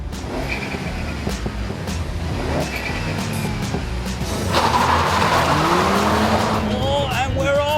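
A VW Polo GTI and a MINI Cooper S launch side by side in a drag race, engines roaring and revving up hard through the gears, the noise rising midway, with a voice speaking over it.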